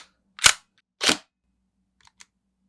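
Tokyo Marui NGRS MP5 airsoft gun, two sharp close mechanical snaps about half a second apart, followed by faint small clicks.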